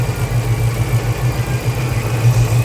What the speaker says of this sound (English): now the fans are spinning